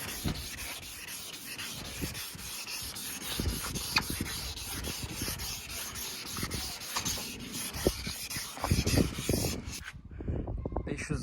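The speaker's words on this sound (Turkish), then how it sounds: "sulu bir şekilde her tarafını zımparalıyoruz" Continuous wet rubbing and scraping of sandpaper worked by hand on a yellowed car headlight, a gritty back-and-forth texture that stops abruptly near the end.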